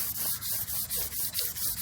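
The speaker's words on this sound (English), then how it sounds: "So be cautious of that, sanding too low." Sanding chrome by hand to turn it into brushed metal makes quick, rhythmic rubbing strokes, about eight close scrapes in under two seconds, with steady air blowing behind them and no talk.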